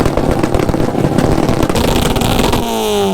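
A non-turbo 1.6-litre petrol car engine revs hard and close, a loud rasping roar that pulses and then climbs in pitch near the end, among a busy convoy of Japanese cars.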